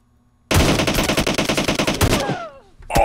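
Rapid, loud Winchester 94 rifle gunfire in the mobile shooter PUBG Mobile, a dense burst of close shots for about two seconds, then a fading tail before another sharp shot near the end.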